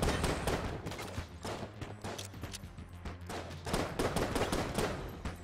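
Rapid, dense bursts of cartoonish gunfire from the video game Enter the Gungeon, overlapping shots crackling almost continuously in uneven volleys with faint game music underneath.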